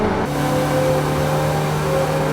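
A Mercedes-Benz Evo 2 touring race car in Forza Horizon 5 accelerates hard out of a hairpin, its engine note climbing in a loud, steady rising whine that shifts up once early on.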